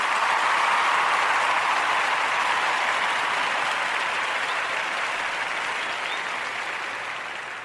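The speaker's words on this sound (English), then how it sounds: "Let's give her a round of applause." Sustained applause from a large crowd, dense and loud, gradually fading toward the end.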